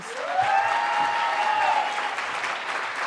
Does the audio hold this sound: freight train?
no